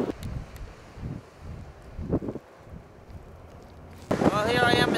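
Winter wind at Dutch Harbor on Unalaska island gusts and buffets the microphone in uneven low rushes, swelling louder near the end as a voice begins speaking.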